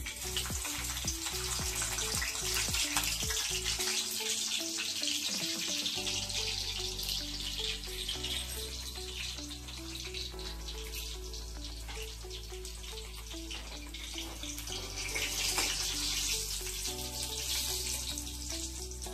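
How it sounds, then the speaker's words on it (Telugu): Garlic fries in hot oil for an Andhra-style bottle gourd pulusu, giving a continuous close sizzling hiss. Background music with steady tones plays under the sizzle throughout. "ఆయిల్ కాగిందండి. ఎల్లుల్లిపాయలు వేసుకుందాం."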